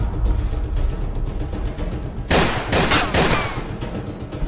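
Airsoft guns fire in a short-film action scene, a burst of rapid sharp reports breaking out after a rumbling lead-in and rattling on to the end.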